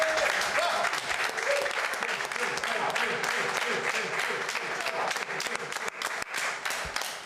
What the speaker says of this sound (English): can we have a round of applause for the king who's back?